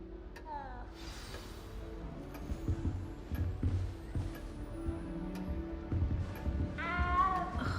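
A cat meows in Hogwarts Legacy, a few short mewing cries near the start and again near the end, heard over steady game ambience and background chatter.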